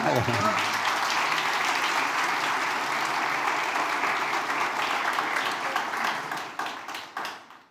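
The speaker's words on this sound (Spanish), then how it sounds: "si quiere aplaudir." A church congregation breaks into sustained applause, dense and loud, with some voices mixed in, then fades out toward the end.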